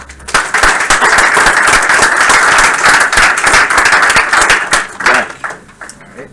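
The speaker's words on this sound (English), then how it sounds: "we'll give him a round of applause" A crowd applauds steadily for several seconds, dense sustained clapping at close range that thins out toward the end, for a client at a game studio build review.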